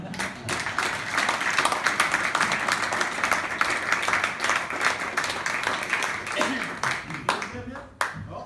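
A theatre audience breaks into sustained applause and clapping throughout, dense and steady with cheering mixed in, fading slightly near the end.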